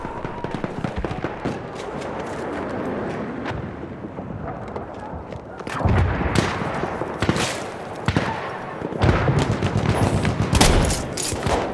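Machine gun fire in the Battlefield 1 shooter game, rapid bursts of gunfire with sharp repeated cracks and heavier blasts, loud and intensifying in the second half amid battlefield chaos.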